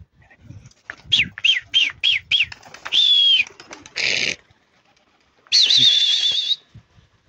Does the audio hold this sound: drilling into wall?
no